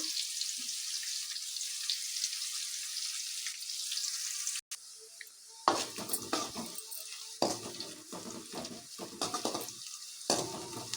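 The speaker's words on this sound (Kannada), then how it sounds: "ಈರುಳ್ಳಿ ಸ್ವಲ್ಪ ಗೋಲ್ಡನ್ ಬಣ್ಣ ಬರೋವರೆಗೂ ಚೆನ್ನಾಗಿ ಫ್ರೈ ಆಗಲಿ ಅದು" Onions for a village-style chicken gravy frying in a pan until golden: a steady bright sizzle, then repeated scraping and clattering stirring strokes over the hiss.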